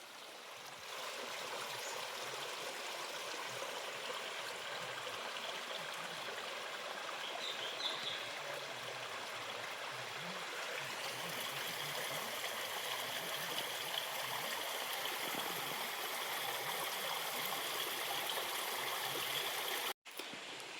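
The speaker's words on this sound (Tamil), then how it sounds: "சின்னதாக ஒரு காட்டாற்று ஓடை அழகாக போயிட்டுருக்கு பாருங்கள்." A small forest stream runs steadily on a hill slope, a continuous close, even rush of trickling water with no voices, cutting off abruptly just before the end.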